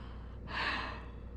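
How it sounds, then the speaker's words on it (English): A streamer yawning once, a short breathy intake swelling and fading over about a second, close and quiet with a low hum behind it. "apparently me yawning."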